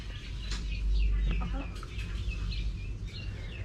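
Rhode Island chickens cluck in their coop, several short, close clucks over a low background hum.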